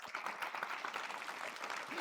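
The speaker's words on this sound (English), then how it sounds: "How about a round of applause for the first spouse of UND?" Audience applause at a university state-of-the-university address, a moderate wash of clapping mixed with faint crowd murmur and a brief voice near the end.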